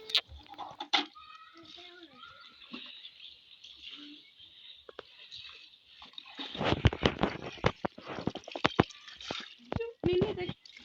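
Chickens, including two broody hens with newly hatched chicks, cluck in short, irregular bursts at a village homestead, close and moderately loud, with people talking intermittently over them.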